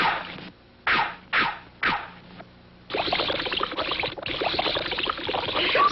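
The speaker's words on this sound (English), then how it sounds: "But that's enough watering, Filmore." Cartoon watering sound, with splashy, hissing bursts of pouring water that come in short repeated spurts before settling into a continuous gushing stream, loud and close.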